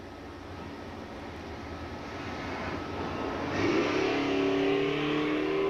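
A Nova and a Skylark drag racing car launch at a dragway in 1994, a steady engine roar that rises and surges louder as they pull away down the strip.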